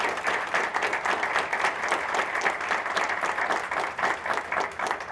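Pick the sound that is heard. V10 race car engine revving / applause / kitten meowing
applause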